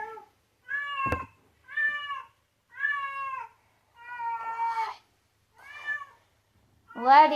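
A pet cat meows six times in a row, clear and close, each call short and tonal with brief pauses between, the last one louder and more strained, and a single sharp tap near the start.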